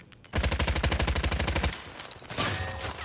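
Gunfire in the video game Warzone rips out as a rapid automatic burst of about a dozen evenly spaced shots, followed by scattered softer shots and game noise.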